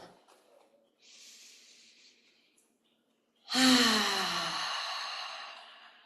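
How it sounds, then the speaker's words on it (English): A deep inhale during a seated tapping breathing exercise, a faint soft breath at first, then a strong close rushing breath that slowly fades out. "Deep inhale."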